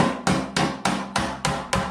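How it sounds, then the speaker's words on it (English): A hammer gently taps a Lambretta GP scooter's steel side panel against a dolly held behind it, seven evenly spaced sharp metallic knocks in quick steady rhythm, close and clear with nothing else heard. "you can tell the difference between where the hammer is directly over the dolly or not."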